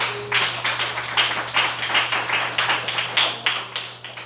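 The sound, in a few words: church congregation applauding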